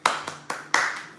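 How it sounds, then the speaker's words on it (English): Four sharp hand claps ring out in a quick, slightly uneven rhythm as a welcome for a guest on a live cooking show, close and alone. "So everybody clap, clap, clap, clap, clap."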